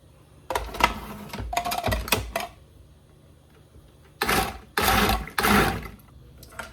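A food processor pulses sweet potato pie filling in a few short whirring bursts separated by quiet pauses, close and fairly loud, with no talk.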